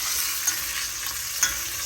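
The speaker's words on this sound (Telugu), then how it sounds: "ఇదే ఆయిల్లో వేసి ఫ్రై చేసేసి" Curry leaves fry in hot oil for a raw amla pickle, giving a steady close sizzle with faint stirring clicks and two brief louder pops, no voices.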